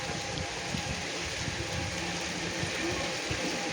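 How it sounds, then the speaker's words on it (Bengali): Rain falling steadily, a dense even hiss of drops that fills the scene without pause, close and moderately loud. "বৃষ্টি হচ্ছে বোঝা যায় না এই যে এখন বোঝা যাচ্ছে"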